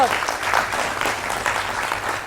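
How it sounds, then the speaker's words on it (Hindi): A television studio audience applauds to welcome an expert panel of military officers on a Hindi debate show, a steady, close wash of clapping that holds evenly for a couple of seconds. "जोरदार तालियों के साथ उनका स्वागत करें।"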